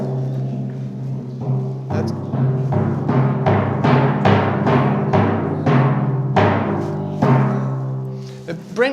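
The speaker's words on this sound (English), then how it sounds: "He mostly just uses the timpani, which are the big drums that sound like this" Orchestral timpani struck by a percussionist in a schools concert, a series of resonant booming strokes roughly every half second with long ringing decay, loud and close, building into a short roll near the end.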